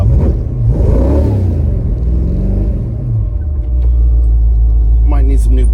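Hot rod car engine on a test drive, a loud, close, steady low rumble with a slight stutter and rising revs, with someone talking over it.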